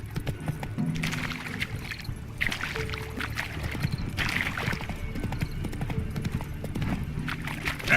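Roach, a horse in a video game, gallops in rhythmic clip-clopping hoofbeats at close range over a soft ambient game background, with faint short tonal game sounds mixed in.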